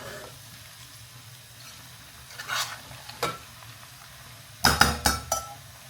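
Sabudana khichdi stirred in a pan, with soft scraping and faint sizzle followed by a cluster of sharp spoon clinks against the pan, close and moderately loud, no talk.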